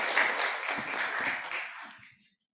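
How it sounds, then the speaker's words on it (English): An audience at a universal design conference gives a short burst of applause for two speakers, dense clapping that fades out after about two seconds into silence. "A round of applause for Miguel Salas and Susanna Warden from Diversity Norway."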